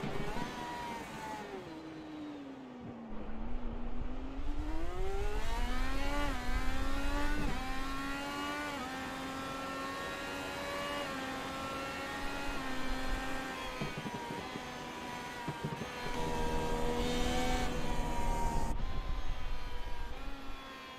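Indy race car lapping Circuit of the Americas on red tires while warming them, engine note rising and falling through upshifts and downshifts, loud and close in an onboard view, continuous through the lap.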